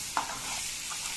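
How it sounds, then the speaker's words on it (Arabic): Tomatoes with salt and spices being stirred in a pan, a steady sizzling hiss throughout with a brief scrape of the spoon near the start, no talk. "هنزل بالملح والتوابل بتاعتنا الجميله دي وهقلبهم كلهم مع بعضهم"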